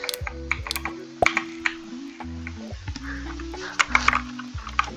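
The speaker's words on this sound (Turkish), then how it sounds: "Abi senin klavyenin sesi çok geliyor diyenleriniz var. klavyem mekanik arkadaşlar." A mechanical computer keyboard is typed on in quick, irregular bursts of sharp clicks, close and distinct over a steady tonal hum in the background.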